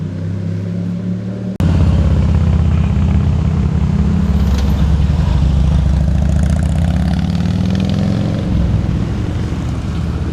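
A Ducati motorcycle on the winding US129 Tail of the Dragon road roars past close by, a sudden loud engine note that holds steady and then slowly fades.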